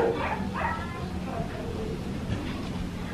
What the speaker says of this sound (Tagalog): Namiss din kasi kayo ng aso namin, guys. Kaya tahol siya ng tahol.